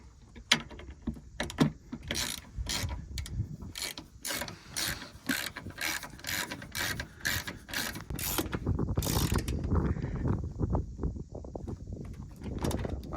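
Fittings on a truck's tank are tightened by hand, a wrench ratcheting in quick repeated clicking bursts up close, then pausing and resuming more softly.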